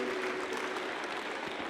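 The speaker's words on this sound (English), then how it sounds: "please give yourselves a round of applause" Applause at a high school athletic recruitment event, a short burst of steady clapping from a gathered audience.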